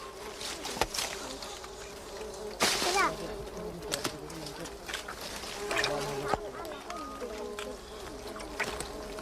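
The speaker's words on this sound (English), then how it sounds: "Luckily, these bees don't sting." Stingless bees buzz around a dead log loaded with honey in the Orinoco headwaters forest, a dense insect hum with close passes over a quiet outdoor background, with a few sharp knocks.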